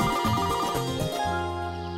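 A telephone ringtone sounds in a Hindi comedy scene, a loud, sustained melodic ring with steady tones playing alone for about two seconds.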